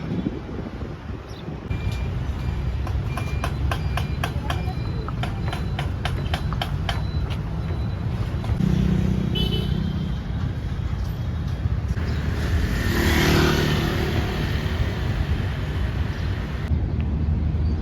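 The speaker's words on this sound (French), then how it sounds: "j'ai un petit peu moins de bruit de la circulation" Continuous city traffic rumble on a Saigon street with passing vehicles, rhythmic clopping and some beeping in the mix, fairly loud and steady throughout.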